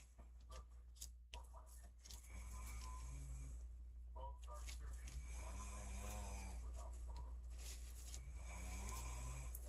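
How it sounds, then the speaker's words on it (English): A man snores heavily and repeatedly in slow, rasping breaths over a steady low hum, loud and close throughout. "You're snoring pretty bad again."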